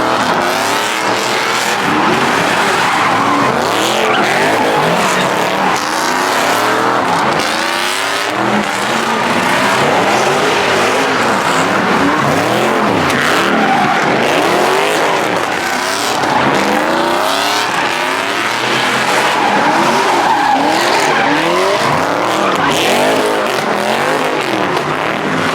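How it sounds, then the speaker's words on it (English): Cars drifting at a street car meet, engines revving hard and tires squealing and skidding continuously, loud and close, with a crowd noise wash throughout. "y'all gonna start seeing the cars swing"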